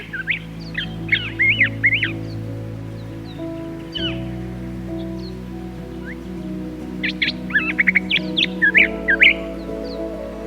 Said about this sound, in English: The chirping of birds and the sounds of insects create a natural symphony that characterizes this land.